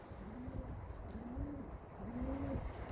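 Young homing pigeons cooing close by in a loft, three soft rolling coos in a row against quiet background rustle.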